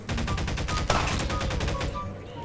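Automated turret in the Garry's Mod zombie survival game firing a steady, rapid burst of repeated shots at zombies, loud and close, with a brief louder crack partway through.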